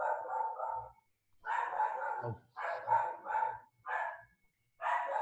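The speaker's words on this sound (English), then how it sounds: "this is my dog, she's excited also" Excited dog barking in a run of loud, close, repeated barks with short pauses between bursts, heard on its own.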